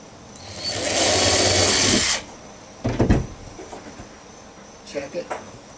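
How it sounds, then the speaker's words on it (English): A power drill whirs loudly for about a second and a half while installing a solar panel on a small sailboat cockpit, followed by a couple of short, softer bursts of the motor. "I'm going to go ahead and drill one."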